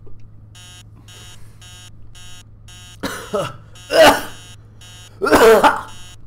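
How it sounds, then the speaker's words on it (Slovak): A cheap alarm clock beeps in a steady pulsing pattern of short electronic bursts, while people cough, clear their throats and make voiced noises over it. "Zastaví ten blbý budík."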